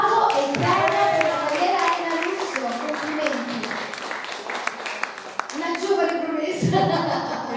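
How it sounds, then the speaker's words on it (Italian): Audience at an international film festival in Milazzo clapping for an award presentation, distinct hand claps mixed with speech and light laughter throughout. "Un applauso e bene."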